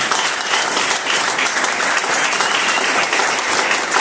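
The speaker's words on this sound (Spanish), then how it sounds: "Denle esas palmas." Loud, dense applause from a church congregation at a wedding celebration, filling the space, continuous and close for a few seconds.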